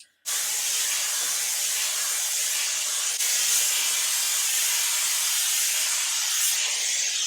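Shark FlexStyle hair dryer with a paddle brush blowing steadily on hair, a continuous loud airy roar that holds level for several seconds with no voices over it.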